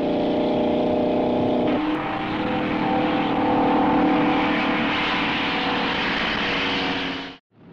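Engines of 1963 Corvette Stingray pre-production prototypes, a convertible and a fastback coupe, drone steadily as they drive on a track, loud and continuous with no talk, then cut off abruptly near the end.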